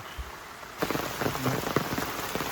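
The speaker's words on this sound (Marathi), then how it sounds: "आता खून काढल्याने पाऊस येऊ लागलो" Rain starts suddenly and keeps falling in a steady, dense hiss by a river in the Konkan countryside, loud and close with scattered drops pattering on surfaces, after a short quiet moment.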